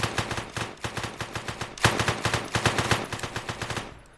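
Rapid automatic gunfire in a bank-robbery video game: a continuous, loud burst of closely spaced shots with a brief heavier blast midway, no talking.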